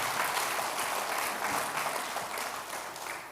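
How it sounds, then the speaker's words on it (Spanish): A church congregation applauds steadily throughout, a dense wash of many hands clapping that fades slightly toward the end. "De verdad que merece un gran aplauso."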